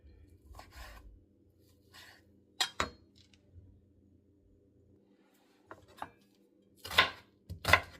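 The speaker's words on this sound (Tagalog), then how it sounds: "Ito po, hihiwa-hiwain na lang po natin yung chicken na roast." A knife slices through a roast chicken in a quiet home kitchen, giving a few sparse, soft cuts and scrapes with long pauses between them and a pair of sharper knocks near the end.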